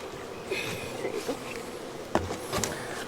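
A swarm of honeybees being hived, a dense continuous buzz of many bees held close, with a couple of sharp knocks or bumps from the hive box partway through.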